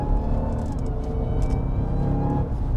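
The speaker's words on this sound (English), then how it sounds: "The fact that you can hear the supercharger with any throttle application is just wild." A deep supercharged V8 rumble from a Jeep Trackhawk with a rising supercharger whine as it accelerates, loud and close throughout.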